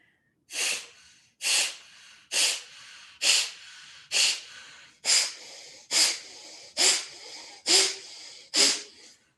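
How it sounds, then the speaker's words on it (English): Ten strong, forceful exhales through the nose during yoga breathing, evenly spaced about once per second, each a sharp close hiss separated by brief silences. "I'm going to do 5 strong exhales left, 5 strong exhales right"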